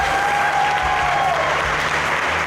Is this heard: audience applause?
yes